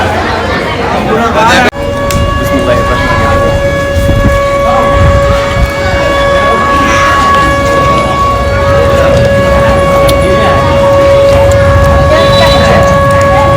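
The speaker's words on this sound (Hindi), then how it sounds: "जो आप ये जो सायरन की आवाज़ सुन रहे हो, ये रोज़ा खोलने का जो सायरन है" A loud, steady siren signalling the end of the Ramadan fast wails continuously with a sustained tone, with crowd chatter and talking underneath, in Takhatpur, Bilaspur.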